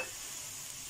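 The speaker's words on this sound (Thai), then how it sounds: "ผัดให้หอม" Chillies are stir-fried briefly in a pan without oil for bamboo shoots with basil, giving a soft, even hiss that stays faint and steady, with no one talking.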